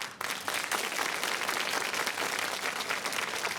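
A studio audience applauding an actor and serviceman on a talk show, sustained dense clapping at even loudness after a brief quieter start.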